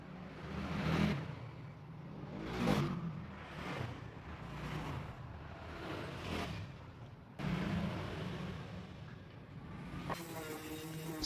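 A random orbital sander with 120-grit paper grinds across dried wood filler on a wall shelf, a steady close whirring drone with repeated swelling passes as the pad moves over the surface.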